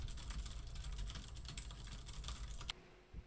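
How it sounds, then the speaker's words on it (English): Continuous fast typing on a mechanical keyboard with Blue switches and O-rings, dense overlapping key clacks close to the microphone, ending in a final louder keystroke and a short pause. "it was demonstrated with the keyboard sounds"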